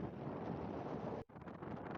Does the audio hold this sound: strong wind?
yes